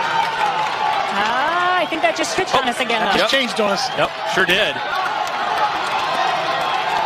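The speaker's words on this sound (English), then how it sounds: "the crowd is on their feet as they are cheering as the runners come by" A crowd cheers as runners pass during a boys 4x8 relay final at the 2021 OHSAA Division III state track meet. The steady roar runs throughout, under close, continuous commentator talk.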